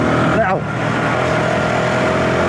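A Zontes G125 motorcycle rides at high RPM, its engine holding a steady, buzzing drone close by with a brief swell near the start, under wind rush.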